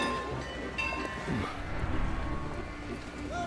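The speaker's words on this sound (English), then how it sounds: "Steam trains made stations very noisy places." A noisy station with a steam train in the video game Valiant Hearts, a steady rumble and hiss with clanks and clatter throughout.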